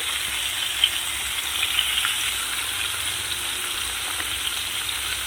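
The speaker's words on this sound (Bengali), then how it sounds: "আলুগুলো লাল লাল করে ভেজে নেবে" Potatoes fry in a pan until browned, producing an even, continuous hissing sizzle at moderate volume with a few faint pops and no talking.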